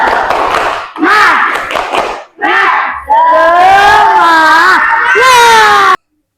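Young pupils in a classroom shout a loud, rhythmic 'tepuk semangat' spirit chant together with bursts of clapping, the group voices rising in several energetic phrases before stopping abruptly.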